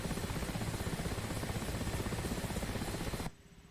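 Mi-8 helicopter in a flight simulation game, a steady rapid rotor thump with engine roar, loud and continuous for about three seconds, then cutting off abruptly.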